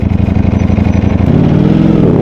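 A Ducati Panigale V4 motorcycle engine runs close and loud with a rapid, throbbing exhaust pulse, then swells into a deeper, stronger rev partway through.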